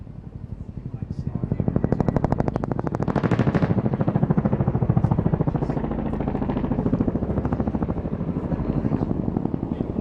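RAF Chinook twin-rotor helicopter in a steep 360-degree turn at an airshow, its rotors producing a loud, rapid cracking blade-slap that pulses continuously and close.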